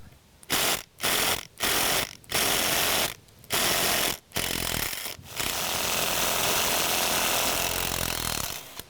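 A power driver sinks Tapcon concrete screws into concrete stairs, loud and close, in several short grinding, rattling bursts followed by one long continuous run.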